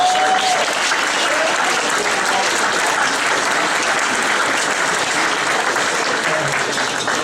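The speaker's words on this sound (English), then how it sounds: "A round of applause." Sustained, dense applause from a large audience at a press club awards gathering, steady and loud throughout with a faint voice briefly audible near the end.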